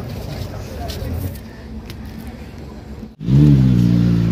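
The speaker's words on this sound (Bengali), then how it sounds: "ওই দেখো একটা সুপার বাইক ঢুকছে, শুধু আওয়াজটা শুরু হয়ে যাবে, আওয়াজ শুনে সত্যি মনটা ভরে গেল" A superbike pulls in amid a bustling crowd, its engine bursting into a loud, deep rumble after a brief lull and holding steady and close over the background chatter.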